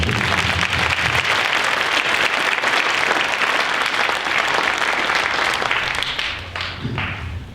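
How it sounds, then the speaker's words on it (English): A school band winter concert audience applauds the soloists with loud, dense clapping that holds steady, then thins and fades near the end. "So one more round of applause for our soloists."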